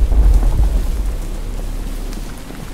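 Rain and thunder in a horror Minecraft world, a loud low rumble rolling over steady rain hiss that eases slightly across the few seconds, with no voices.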